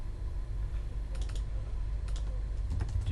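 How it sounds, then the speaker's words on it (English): Keys tapped on a computer keyboard in short, irregular bursts of quiet clicks over a steady low background hum, with no one talking. "So we just type that in there and that will appear for us."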